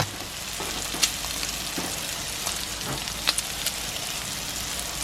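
Keto taco filling frying in a pan, a steady close hiss of sizzling with a few brief clicks and pops, no one speaking.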